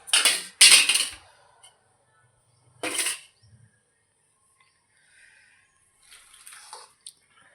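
Washed metal dishes and pots clatter and clink as they are handled, with a few sharp bursts close by separated by quiet pauses, then fainter clinks.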